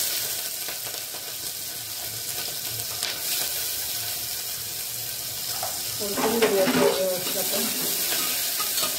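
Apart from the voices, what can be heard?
onion frying in a pan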